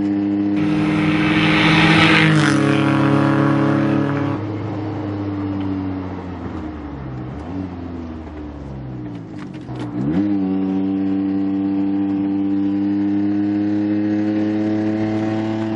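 A car engine revs hard while driving, its pitch climbing through gears, dipping between shifts, then rising again, loud and close throughout.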